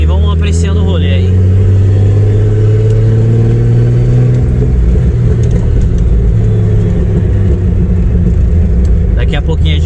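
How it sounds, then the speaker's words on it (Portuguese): Chevrolet Opala with a turbocharged six-cylinder engine rumbles loudly and steadily while being driven, a deep continuous roar close up that stays in the foreground throughout, with occasional faint clicks over it. "curtir o ronco do carro, que é a melhor parte disso daqui"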